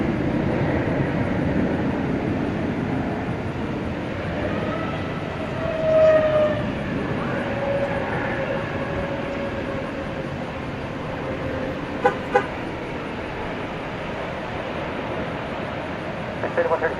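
Airliner on the flight to Denver taking off from DFW Airport at night, a broad steady jet roar swelling and holding across the runway, distant and continuous, with a person talking over it.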